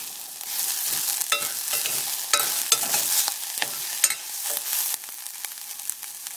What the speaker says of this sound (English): Ginger, garlic and onion are cooked well.